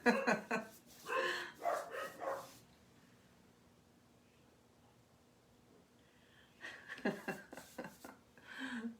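Bursts of dachshunds barking, several sharp overlapping barks at the start and again near the end, separated by a long quiet stretch.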